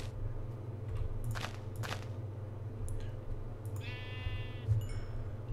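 Video game sheep bleat in a couple of short, slightly wavering calls over a steady low hum, with a few brief clicks and taps around them and no talk.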